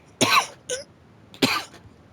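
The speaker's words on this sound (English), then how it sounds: "still trying to get rid of this cough" A man coughs in a quick burst: two harsh, close coughs with a short throat-clearing catch between them, loud against a quiet room.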